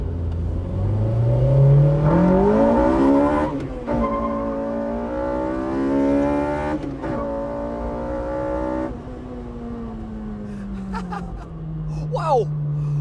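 A Honda Integra Type R engine revs up in first gear from inside the car, the tone climbing to a high-rpm shift and carrying on over several seconds, with occasional voices underneath.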